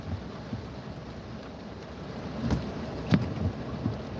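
Monsoon rain falls steadily with dull rumbles of thunder and gusts of wind buffeting the microphone, and there is no talking.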